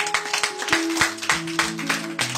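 Congregation at a church pastor ordination service clapping in a steady rhythm, sharp repeated claps over sustained music.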